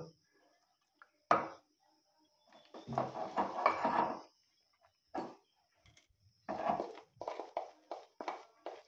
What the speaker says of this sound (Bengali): এবার এটাকে আমি একটু একটু জল দিয়ে মেখে নেব।